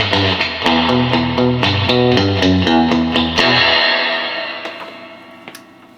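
An electric guitar plays through a vintage 1960s Fender spring reverb tank with a Fender Princeton amp, sharp rhythmic picked notes and chords ringing into a splashy, lingering surf-style reverb tail that fades out, loud and alone.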